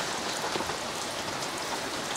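Steady rain falls in the Apuseni mountains, a dense even hiss of drops on surfaces heard close and unbroken throughout.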